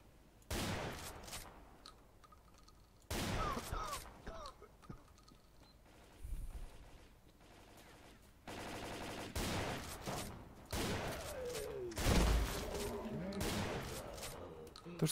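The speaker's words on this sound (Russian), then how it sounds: "И то, что они в меня стреляют, тоже очень круто." Gunfire from enemies in a S.T.A.L.K.E.R. mod video game, arriving in separate loud bursts of rapid shots between quieter gaps, with occasional faint talk.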